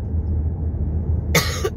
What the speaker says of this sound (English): Let me stop coughing and drink some water.